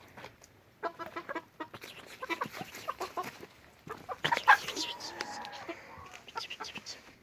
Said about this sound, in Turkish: tavuk sesini de duyduk